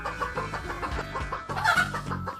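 Cartoon chickens clucking busily, a dense flock of overlapping cackles and squawks filling a room after spilling out of a magic box, steady and close throughout.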